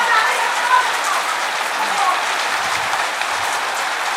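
Heavy rain pours down steadily on surfaces around a home, a loud, dense and continuous hiss of water with no letup.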